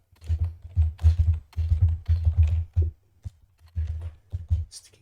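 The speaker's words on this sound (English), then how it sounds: "Sticky keyboard." Fingers tap rapidly on a sticky computer keyboard, a close, dense patter of keystrokes in uneven bursts with short pauses between them.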